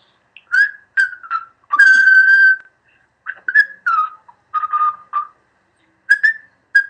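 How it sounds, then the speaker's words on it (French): Short, clear whistle tones in quick bursts, one longer sustained note among them, loud and close with silent gaps between. "nous faire un petit coup de sifflet"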